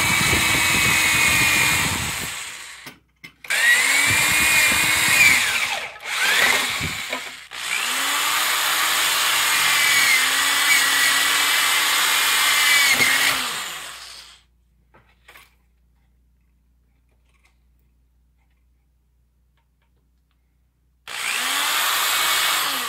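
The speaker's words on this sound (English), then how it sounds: "drill through the shield" Power drill boring through a wooden SCA shield: several loud whining bursts with brief stops, a long continuous run, then a quiet gap before the motor starts again.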